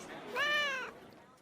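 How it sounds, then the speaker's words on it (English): A cat meowing in an office, a single clear, drawn-out meow close by, set against quiet room tone. "You brought your cat into the office?"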